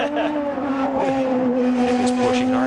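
A 2005 Champ Car race car at full throttle on a qualifying lap at the Denver Grand Prix, its high-pitched engine wailing loud and steady, rising slightly as it drives hard through the corners, with no talk.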